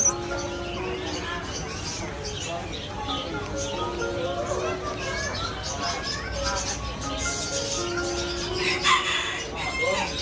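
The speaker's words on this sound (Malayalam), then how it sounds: "ഇതാണ് തായ്ലൻഡിലെ കോഴികൾ. പൂവനും പെടയെല്ലാം ഉണ്ട്." Roosters and hens at Chatuchak weekend market in Bangkok cluck and call amid a busy crowd murmur, with someone talking over the birds.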